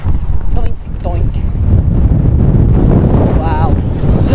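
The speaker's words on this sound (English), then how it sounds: "This is the wind." Strong wind buffets the microphone on a pebbly beach, a loud continuous roar throughout, with people speaking over it.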